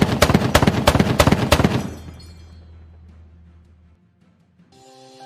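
A 105mm M1128 Stryker mobile gun system fires in a rapid series of sharp, loud blasts over about two seconds, then a long rumbling decay fades out, with a faint tonal sound at the end.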